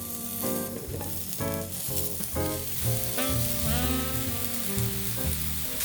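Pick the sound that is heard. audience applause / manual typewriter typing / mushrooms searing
mushrooms searing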